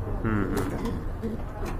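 Heavy-bodied pigeons in a seller's cage give short, low coos close by, with faint background voices mixed in.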